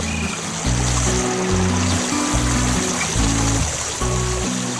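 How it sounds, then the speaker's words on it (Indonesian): A strong rush of water pours into a pool at a wind turbine foundation construction site, a steady loud hiss running beneath a bouncy musical melody. "Airnya mengalir deras sekali."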